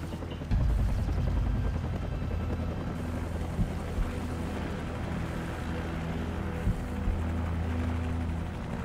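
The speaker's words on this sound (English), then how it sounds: "Take out that helicopter." A helicopter in the video game Call of Duty 4: Modern Warfare thrums with a continuous loud rotor beat, with occasional sharp impacts and gunfire-like thuds punctuating the steady engine roar.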